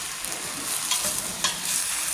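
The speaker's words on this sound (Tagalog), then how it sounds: "Haluin natin." Cubed tofu sizzles in hot oil in a frying pan while a spatula stirs it, giving a dense continuous crackle with a couple of brief louder scrapes, close and with no voices.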